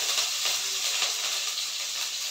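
Green chilies with cumin seeds sizzle in hot oil for a sabudana khichdi, a steady bright hiss with slight crackle, close and continuous, with no talking.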